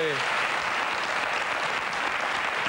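A studio audience on a French radio-television show applauds comedian Gad Elmaleh as he is introduced, a full, sustained wash of clapping that stays loud throughout, with a brief voice at the very start.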